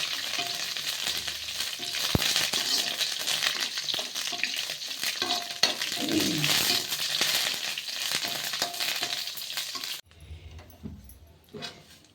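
Dried red chillies fry in a pan with a steady loud sizzle and crackle, stirred now and then, before the sound drops to a quieter hiss near the end.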